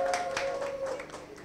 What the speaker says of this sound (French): Allez, applaudissez, applaudissez.